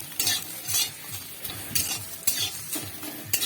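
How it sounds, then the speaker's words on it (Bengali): A coriander leaf mash with black cumin is stirred in a kadai, giving about seven rhythmic scraping strokes of a spoon against the metal over a faint, low sizzle, close and clear. "নাড়াচাড়া করে নিচ্ছি"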